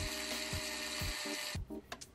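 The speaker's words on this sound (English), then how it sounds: "I'm going to re-drill these holes because they're not very deep." A small drill whines steadily while re-drilling shallow holes in a Gunpla model part. The close, even motor hum carries faint rhythmic pulses, then cuts off abruptly and leaves a few light handling clicks.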